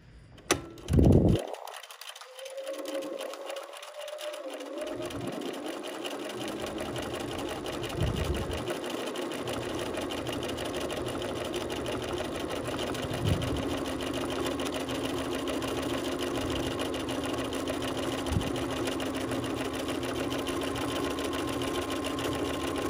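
A sewing machine stitches a triple straight stitch, starting with a few handling knocks before settling into a steady, continuous mechanical whir that runs uninterrupted and fairly close.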